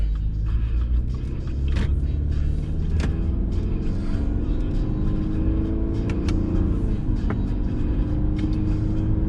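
Interior cabin sound of a 2022 Subaru Accent Touring Edition driven in manual paddle-shift mode: steady low engine and road rumble throughout, with the engine note rising and falling through gear changes, alone without talk.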